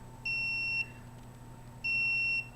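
A household smoke alarm gives two long, shrill electronic beeps, each about half a second, separated by a short pause, heard fairly faintly indoors over a low background hum.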